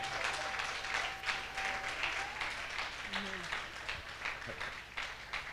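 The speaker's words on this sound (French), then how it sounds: "Acclamons Jésus-Christ pour lui." A church congregation in Cameroon applauds with a sustained wash of many hands clapping, moderately close, while a voice carries on briefly underneath.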